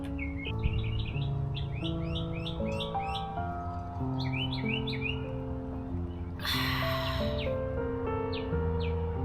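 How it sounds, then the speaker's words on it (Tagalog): Birds chirp and tweet in quick, repeated bursts over a steady low hum, with a brief louder rush of noise partway through. "Marami na kasing ibon eh."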